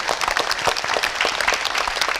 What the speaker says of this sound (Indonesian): Iya, kita beri tepuk tangan dulu